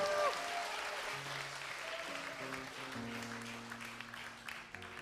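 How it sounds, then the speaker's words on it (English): An audience at a church gathering applauds steadily for about five seconds, a dense wash of many hands clapping together, loud and even, with a faint sustained musical tone underneath. "can we give him a big, big, big, big clap?"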